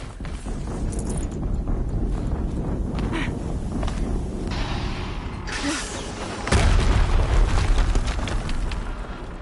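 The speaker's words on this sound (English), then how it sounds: "Another explosion." Explosions rumble across a battlefield in Horizon Zero Dawn, with dense crashing noise, creaks and mechanical clatter, swelling into a louder, deeper blast near the end.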